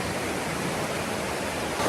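A creek near Abrams Falls in Cades Cove rushes steadily, a dense, even roar of flowing water that stays close and loud throughout with no voices over it.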